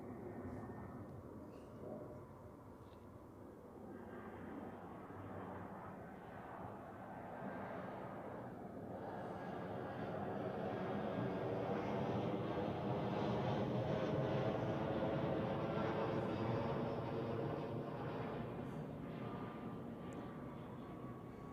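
An ITA Airways airliner in Alitalia livery lands at Zurich Airport, its engine roar building from a distant rumble to a loud, broad, sustained rush before easing slightly at the end.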